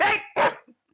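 A dog in a 1995 Hindi film gives two sharp, close barks in quick succession, followed by a faint short whimper before falling quiet.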